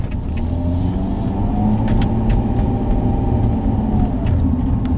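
Car interior sound while driving slowly through flooded streets of Seward, Nebraska: a steady engine hum and road rumble with faint water noise, continuous and close, without speech.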